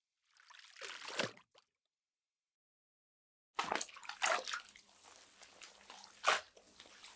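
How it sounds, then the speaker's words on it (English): Water splashes and sloshes close by as someone is washed in a bath in a calm indoor setting, heard in two bursts of swishing and dripping with a quiet gap between them. "please allow me to wash this gunk off of you"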